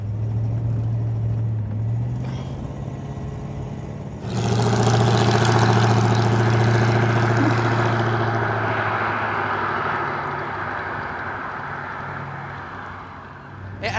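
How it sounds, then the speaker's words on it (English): A Gordon Keeble car engine idles with a deep, steady low rumble that swells louder partway through, then settles into a smooth, continuous hum with no talking. "But it's just such an effortless engine."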